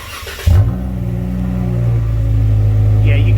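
A 2016 Jeep Wrangler Rubicon with Flowmaster Outlaw dual exhaust barks to life after a quiet moment, then holds a deep, loud, rising rumble close by with slight revving; a voice is heard briefly.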